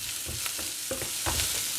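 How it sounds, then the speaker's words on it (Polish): Homemade scrambled eggs fry in a pan with a steady, bright sizzling hiss, broken by a few soft scrapes and clinks of stirring, close and continuous with no voices. "słyszę, że mikrofon odbiera syczenie, więc y, tak wygląda gotowanie. Gotowanie to syczenie."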